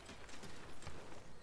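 Horse hooves clop in the strategy video game Civilization VI, a few soft, quick clip-clop steps under a dense background of game sound.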